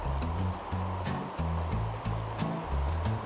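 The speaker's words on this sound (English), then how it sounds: "We are on an absolutely gorgeous river in interior Alaska" A river in interior Alaska flows with a constant broadband rush of water, heard alone under a low, rhythmic tonal pattern and with no talking.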